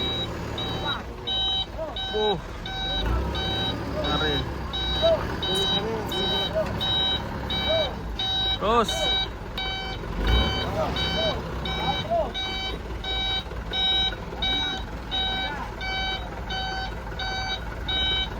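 A truck carrying huge cattle at a farm in Cirebon sounds steady, evenly spaced reversing beeps throughout, with the engine rumbling underneath and men calling out directions nearby.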